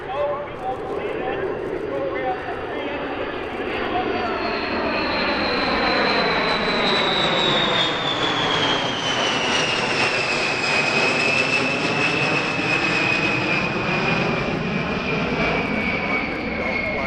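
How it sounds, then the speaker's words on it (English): A Boeing B-52 Stratofortress makes a single flying pass at the EAA AirVenture Oshkosh 2023 air show, its jet roar swelling loudly with a clear falling whine as it sweeps by overhead. "the B-52 Stratofortress, an example of which participated in the flying display with a single pass"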